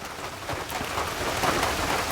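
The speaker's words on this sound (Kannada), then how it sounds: "ನಿಮಗೆ ಸೌಂಡ್ ಕೇಳುವಾಗಲೇ ಗೊತ್ತಾಗ್ತದೆ ಮಳೆ ಬರ್ತಾ ಉಂಟು ಅಂತೇಳಿ" Steady rain falls in a dense, continuous hiss with faint pattering, close and fairly loud, with no voices.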